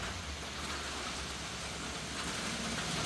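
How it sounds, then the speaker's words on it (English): Steady rain falls outdoors, a dense, even hiss holding at the same level from start to finish with no voices over it. "Woo, that rain."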